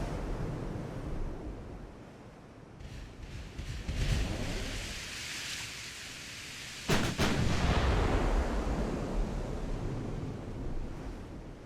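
Naval 9-inch gunfire in the warship game Ultimate Admiral Dreadnoughts, a loud sharp blast followed by a long rumbling roar over a constant wash of sea and wind noise, no talking.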